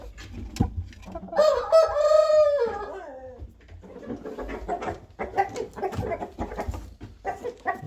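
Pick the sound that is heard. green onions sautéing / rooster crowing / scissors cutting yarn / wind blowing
rooster crowing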